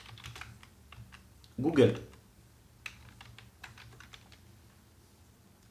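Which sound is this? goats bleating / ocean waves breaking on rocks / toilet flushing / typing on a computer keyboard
typing on a computer keyboard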